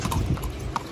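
A mare walks along with hooves clip-clopping, several uneven close knocks in under a second over low background rumble.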